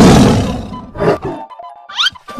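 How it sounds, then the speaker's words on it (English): A red cartoon tiger lets out a loud, close, noisy roar that fades over about a second, followed by a couple of quieter rumbling bursts and a short squeaky chirp. "Red tiger."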